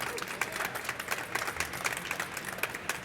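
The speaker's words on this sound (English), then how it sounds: "Give him a round of applause, y'all." Audience applause for a special guest at a live event: steady, dense clapping from a moderately sized crowd, heard at a distance and lasting throughout.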